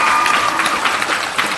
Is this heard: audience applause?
yes